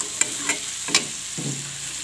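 Fish curry sautéed in a pan, with a steady sizzle and a few sharp scraping stirs of a utensil across the pan, close and moderately loud, with no talking.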